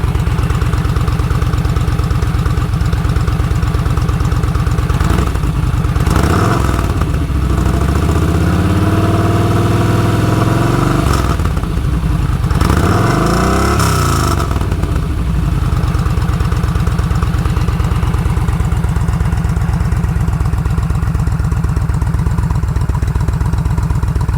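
Close Yamaha XVS950A motorcycle with a Vance & Hines exhaust idling steadily, with two or three quick throttle blips that rise and fall in pitch before settling back to idle.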